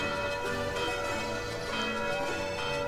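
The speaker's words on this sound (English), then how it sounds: "Can ring the bell?" A bell rings in the video game Sword Art Online: Hollow Realization, its steady tolling tone sitting within a dense, continuous game soundscape for about three seconds.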